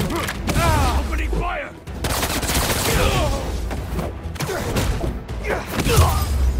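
Rapid gunfire fills a fight in the video game Marvel's Spider-Man 2, with bursts rattling continuously amid mechanical clanks, and game characters shouting and talking over the shots.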